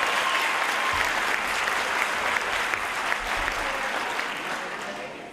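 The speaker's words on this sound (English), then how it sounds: "So please give them a round of applause." Audience applause fills an 8th grade moving-up ceremony hall, a dense steady wash of clapping from a large crowd that holds loud for about four seconds before tapering slightly toward the end.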